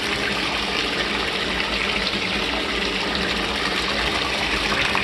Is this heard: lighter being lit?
no